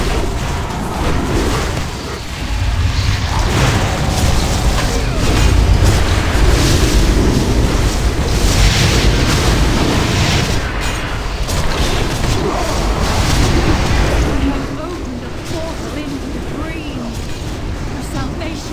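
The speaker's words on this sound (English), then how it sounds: "I can't outrange that explosion." Explosion in a video game: a long, loud rumbling blast lasting many seconds with crackling debris throughout, easing off near the end, while people talk over it.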